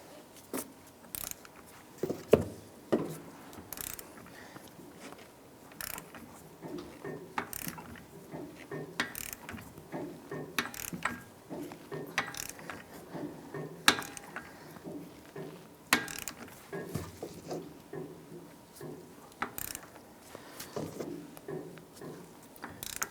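Ratcheting torque wrench tightening the front axle nut on a 2001-2007 Ford Escape during a wheel bearing and hub replacement, a steady run of quick metallic clicks and pulls, close up, with short pauses and no talk.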